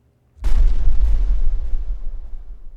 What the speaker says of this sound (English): In a flash, the spaceship flies up and explodes.